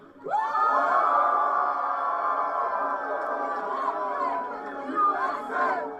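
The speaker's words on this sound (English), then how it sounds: "Everyone cheer." A crowd in a room cheers and shouts together at a political event, a loud sustained roar of many voices that rises at the start and carries on for several seconds.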